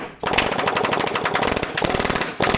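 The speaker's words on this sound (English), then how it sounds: "But this is why I like air chisel." A pneumatic air chisel hammers in a rapid, loud continuous burst against a rusty car rocker panel, cutting out briefly near the end before resuming.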